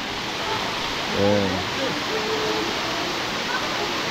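Steady broadband rush of running water at Kakawayan Falls, a clear waterfall in Infanta, Quezon, filling the scene evenly while a voice speaks briefly over it.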